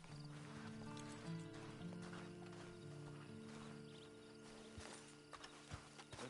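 Horse hooves clip-clopping in the video game Red Dead Redemption 2, a faint, steady walking rhythm of close knocks over a soft humming background, with a voice speaking briefly.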